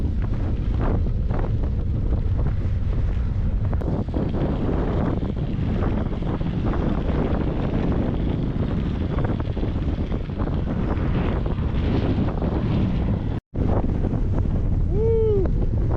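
Strong wind buffets the microphone along a riverside bike trail, a continuous loud roaring rush with gusting swells, briefly cut off once near the end.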